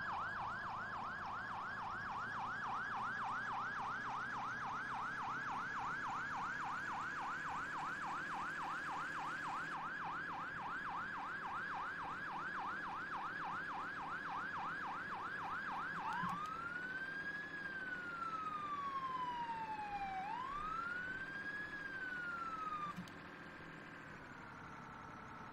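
Fire engine 71's siren in the video game Farming Simulator wails loudly on a fast yelp cycle, then shifts to a slower rising-and-falling wail, with an idling engine underneath and no talk.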